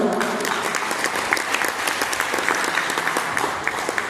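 An audience at a direct-selling motivational seminar claps steadily, dense rapid hand claps close and loud for the whole stretch with no talk over them.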